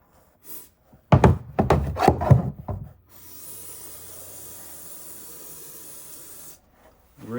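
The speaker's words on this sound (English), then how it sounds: "I'm going to be using some of the gum out carb cleaner." Gumout carb cleaner sprayed onto the carburetor of a Subaru EA190V pressure washer, one steady hiss lasting about three seconds after some clattering handling noises.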